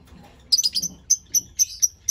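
Aqua blue lovebird chicks give a run of thin, high-pitched chirps, several quick calls followed by evenly spaced single tweets, close and clear against a quiet background.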